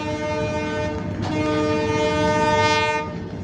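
A test-run train crosses the new Pamban railway bridge, its loud sustained horn sounding over the rumble and rattle of the cars passing nearby.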